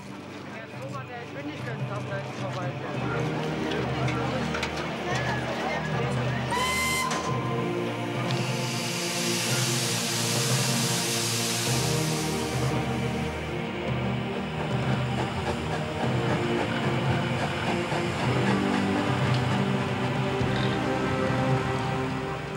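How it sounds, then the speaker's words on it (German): A steam train running between Zehlendorf and Düppel in Berlin chuffs and hisses continuously, with a brief shrill whistle blast, a burst of venting steam, and someone speaking over it. "Eine Woche lang pendelt ein Dampfzug zwischen Zehlendorf und Düppel"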